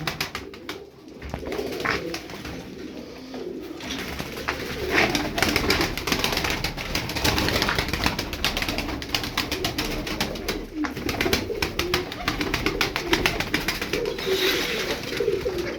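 Tumbler pigeons coo steadily in a loft, low soft calls overlapping one another with faint rustling and wing flutters, continuous and fairly close throughout.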